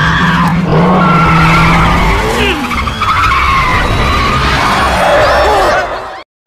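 Racing cars skid hard in a film street race, loud sustained tire squeals sliding in pitch over roaring engines, continuous for several seconds before cutting off abruptly.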